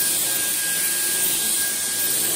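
Dyson V11 Absolute cordless vacuum cleaner running steadily on carpet in boost mode, a loud, constant broadband motor whine with a high tonal hum, alone without talk.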